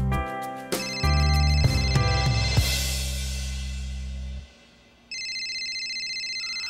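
Phone ringtone for an incoming call from a doctor: a melodic tune plays over a low musical bed, fades, then a bright repeating electronic ring tone starts up loud and steady.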